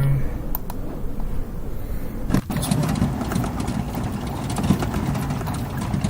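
Airship engines running in Microsoft Flight Simulator 2020: a steady, close, low mechanical drone that holds without a break, with a brief sharp click partway through.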